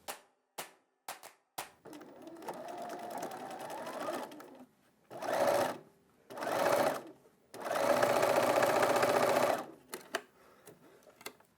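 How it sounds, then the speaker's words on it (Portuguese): Sewing machine stitching the side seams of a fabric bag, with a few clicks and a softer run, then three short close bursts of rapid mechanical clatter and brief pauses between them. "Estamos a cozer sempre com a largura do calcador."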